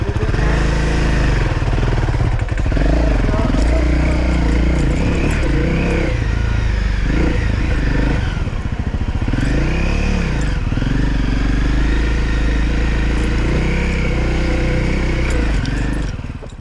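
Motorcycle engine working hard as the bike climbs a rocky obstacle on Poison Spider Mesa in Moab. It sounds loud and close throughout, with surging revs, rises and dips in pitch, and clattering over rough rock.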